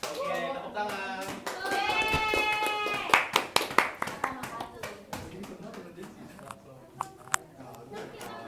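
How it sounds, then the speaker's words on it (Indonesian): A classroom group claps together during a microteaching session, a burst of scattered hand claps that thins out toward the end, mixed with children's excited voices and chatter. "Oke, tepuk tangan."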